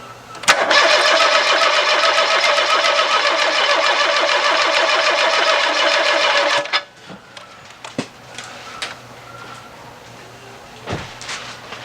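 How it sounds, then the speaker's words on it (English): A Ford small-displacement engine, fresh from oil pump and timing belt work, cranks steadily on the starter for about six seconds without catching, then stops, leaving a few faint clicks and shop clatter. "what I'm going to do is crank it over again, make sure we get the oil pressure up there."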